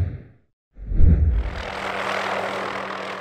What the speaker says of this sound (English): Today we got a helicopter out here on the Stansberry Mountains.